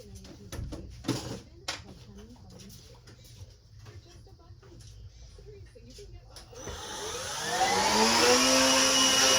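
Close, breathy rushes of air blast grime out from under a Jeep Wrangler during undercoating work. Early on they come as short, scattered bursts amid clatter and rattling, then become a loud, sustained whine of a blower or air tool that builds near the end.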